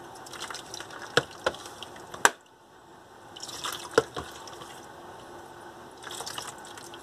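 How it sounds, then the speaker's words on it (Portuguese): Water rinses car shine detergent off a car body in short splashing bursts and drips, with sharp spatter clicks between quieter pauses, close and moderately loud. "Agora vamos enxaguar."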